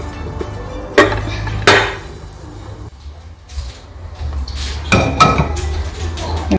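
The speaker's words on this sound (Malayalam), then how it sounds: "ആദ്യം ഞാൻ പ്ലേറ്റ് വെച്ച് കമഴ്ത്തിയിട്ട്" Clinks and knocks as a plate is set over a cake pan holding kalathappam, a soft jaggery rice cake, and flipped; two sharp close hits, then a quieter clatter and a few more bumps.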